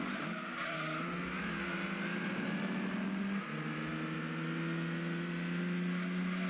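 A race car accelerating in Gran Turismo 2, engine note climbing through the revs with a gear change midway, accompanied by tire squeal and a steady game soundtrack.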